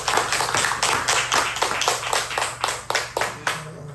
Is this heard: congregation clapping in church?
yes